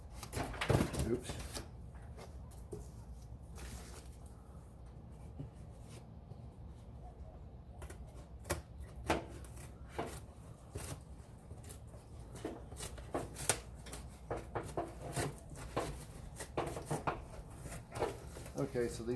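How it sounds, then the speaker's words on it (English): Scissors snip roughly through stiff template material for a car heater part in a series of irregular crisp cuts, mixed with rustling and handling noises, close and fairly quiet. "these scissors aren't the best for doing this with, but again, just a rough cut"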